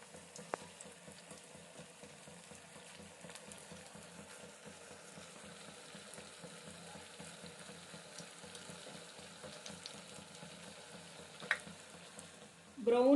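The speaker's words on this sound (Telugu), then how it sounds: "ఈ ఫ్రై అనేది గోల్డెన్ కలర్లో వచ్చేదాకా మనము బాయిల్ చేసుకుందామండి." Mysore bonda batter deep-frying in hot oil until golden, a quiet steady sizzle with faint crackles and occasional clinks, close but low in level, ending with a louder clatter.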